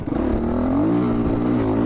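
A Husqvarna FE350 dual sport motorcycle accelerates close by, its single-cylinder engine note rising steadily and loud with no talk over it.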